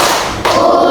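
Group clapping in a counted clapping routine led in a school classroom setting, heard as a brief burst of dense hand claps across about one second, loud and close.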